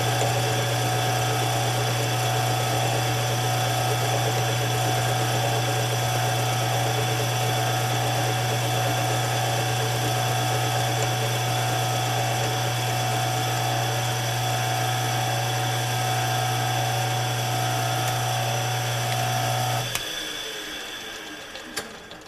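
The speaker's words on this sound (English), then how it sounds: "You can hear the intermittent cuts there from the square notches yet." Metal lathe turning a Farmall Super M tractor part with square notches, a loud steady machining drone with a rapid rhythmic chatter from intermittent cuts, cutting off abruptly near the end as the machine winds down.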